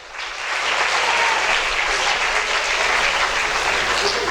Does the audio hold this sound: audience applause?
yes